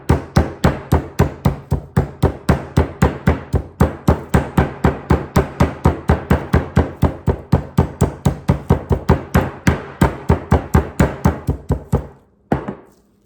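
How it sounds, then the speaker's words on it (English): Rapid, steady pounding of a meat mallet on chicken, dozens of sharp thuds in a fast rhythm, close and loud, stopping briefly then two final blows. "Just hammer it down."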